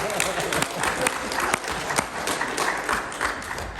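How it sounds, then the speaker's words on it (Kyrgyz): Audience at a YouTube business forum applauding a blogger on stage, dense sustained clapping from a large crowd close by with a voice faintly mixed in. "Ошого бир кол чаап койсоңуздар."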